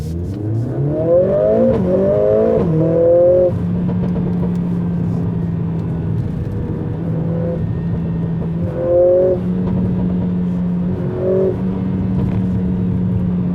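A 2020 Mercedes-AMG CLA45 S engine revs and accelerates hard through several gear shifts, pitch climbing then dropping with each change, loud from inside the car.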